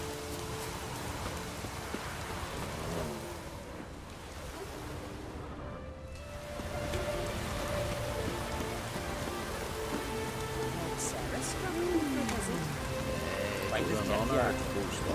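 Steady rain from the Witcher 3 video game, a constant dense patter on surfaces that fills the whole scene, with game music and faint background sounds mixed in beneath it.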